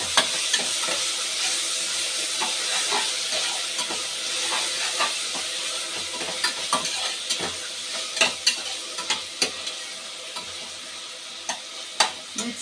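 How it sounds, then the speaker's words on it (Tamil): Two spoons of ginger garlic paste fry in a hot pan with a steady sizzle and hiss, while a spoon scrapes and stirs in irregular clacks that grow sharper toward the end. "நம்ம இப்போ இஞ்சி பூண்டு பேஸ்ட்டு 2 ஸ்பூன் போட்டுக்கலாம். இந்த பச்சை ஸ்மெல் போகிற வரைக்கும் நம்ம நல்லா ஃப்ரை பண்ணணும்."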